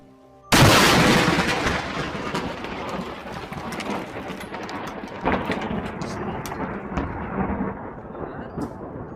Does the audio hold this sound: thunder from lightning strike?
yes